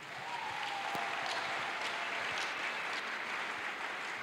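Steady, dense applause from a church congregation, sustained loudly throughout with no voices standing out over the clapping.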